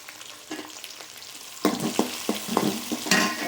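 Onions and chopped tomatoes frying for cabbage masala, starting as a faint hiss that swells into louder sizzling once more goes into the pan, with repeated stirring clacks from a spoon against the pan.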